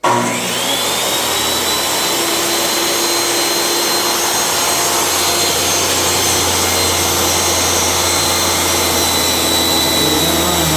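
A power saw whines steadily and loudly as it rip-cuts a wooden board, one continuous grinding drone with a high ringing tone and no voices.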